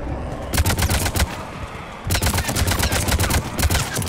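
Rapid bursts of automatic gunfire from a Mass Effect 3 firefight crackle loudly in dense volleys, pausing briefly near the middle before resuming just as intensely.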